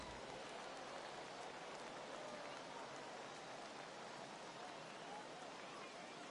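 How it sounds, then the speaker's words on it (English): Steady heavy rain pouring down in a PS4 baseball game, a dense unbroken hiss of raindrops on surfaces, constant and fairly loud with no pauses. "Yeah, the rain starting to intensify here. It's coming down a little heavier now."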